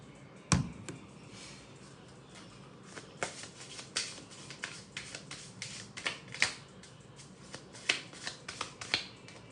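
Oracle cards shuffled by hand in a quiet room, giving a run of crisp riffling snaps and flicks, with one sharp burst near the start followed by irregular softer slaps spaced through the rest.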